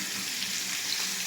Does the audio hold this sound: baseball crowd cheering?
no